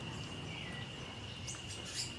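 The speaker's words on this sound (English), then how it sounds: "all you would be hearing is the birds and the crickets and all the alive everything around" Crickets trill steadily in a Costa Rican jungle, a continuous high-pitched drone, with a few faint bird chirps near the end; quiet and distant, no voices.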